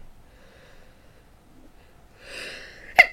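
A single sharp sneeze near the end, preceded by a brief audible inhale, with quiet room tone before it.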